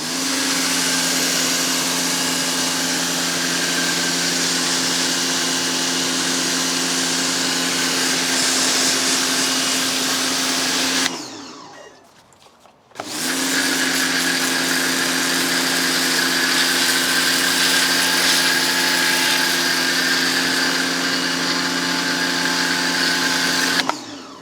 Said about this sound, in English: For the price, this pressure washer is really good.